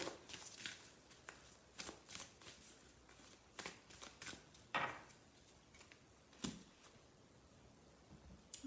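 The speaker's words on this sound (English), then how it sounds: "I'm just going to pull us an oracle card to see how that wants to complement our reading" Oracle cards being shuffled and drawn during an intuitive reading, giving a run of soft papery riffles and slaps spread through the clip, fairly quiet and close, with no talking.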